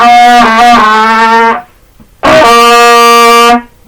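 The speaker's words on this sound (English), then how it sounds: "your teeth cannot be closed or else you're going to sound like this" A brass mouthpiece is buzzed with the teeth closed, giving two sustained nasal, pinched tones, each about a second and a half long, loud and close, with a short gap between them.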